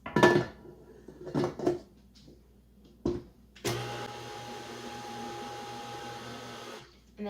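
Cake-pop batter being mixed with a flour mixture, a steady electric mixer whir running for about three seconds after a few short knocks and bumps of bowl and utensils.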